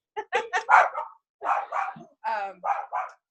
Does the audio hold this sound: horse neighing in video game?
no